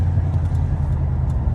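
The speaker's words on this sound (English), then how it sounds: "It's going through the gears." Police car engine running as it shifts through the gears, a steady mid-volume rumble with low throbbing tones and faint higher whines, no voices.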